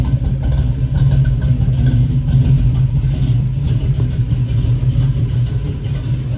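A 1970 Chevrolet Nova with a 383 stroker engine idles steadily at close range, a deep continuous rumble with a slight rough pulse and no talking.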